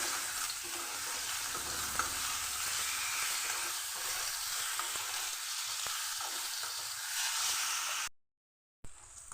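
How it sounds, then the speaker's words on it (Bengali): Potatoes fry in hot oil with salt and turmeric in a pan, a steady close sizzle and hiss with light stirring scrapes, cutting out briefly near the end. "নুন হলুদ দিয়ে আমি আলুটা একইভাবে ভেজে নেবো কপির মতো করে"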